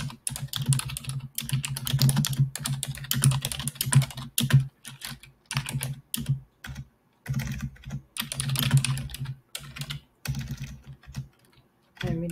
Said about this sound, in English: Gosh, I'm not very good at typing today